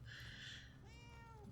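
A cat in the video game Murdered: Soul Suspect gives a single short meow that rises then trails off in a falling whine, close and clear over a low game ambience.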